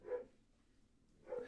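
Dog barking indoors on a rainy day, two brief faint barks about a second apart with near silence between them.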